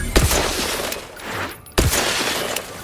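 Gunfire in the video game Outer Worlds 2 sounds as two loud, sharp bursts against a dense, noisy game soundscape, with no talk over them.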